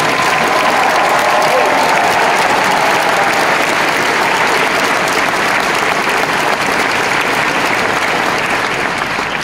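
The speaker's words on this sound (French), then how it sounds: "une belle main d'applaudissements pour notre animatrice Marie-Carmen Laflamme" Dense, sustained audience applause fills a graduation ceremony hall, honoring the host, Marie-Carmen Laflamme; steady, loud, continuous clapping with no break and no speech over it.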